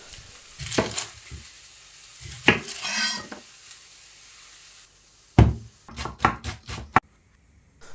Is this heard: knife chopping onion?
yes